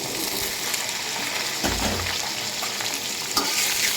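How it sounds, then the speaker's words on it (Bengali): Boiled jackfruit seeds and potatoes sizzle and fry in hot oil in a pan, a bright, steady crackle with stirring scrapes and a couple of louder spatters. "এটার সঙ্গে আমি কাঁঠালের বিচিটা আর একটু তেলের সঙ্গে ভেজে নেব।"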